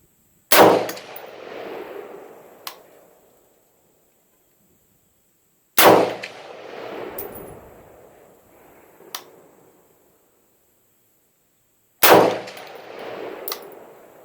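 Three sharp, loud Gwinn Bushmaster rifle shots, each a close crack trailing off into a long outdoor echo, spaced roughly six seconds apart with a faint metallic clink after the first two.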